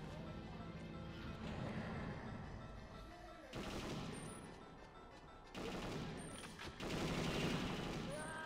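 Video game gunfire from Perfect Dark, with repeated bursts of automatic shots and crashing impacts in dense runs broken by brief pauses, fairly quiet overall.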